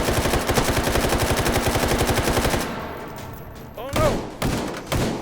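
Rapid automatic gunfire from the H3VR virtual-reality shooter rattles in a dense, loud, even burst for about two and a half seconds, then stops and gives way to a few scattered impacts, with a man's brief exclamation.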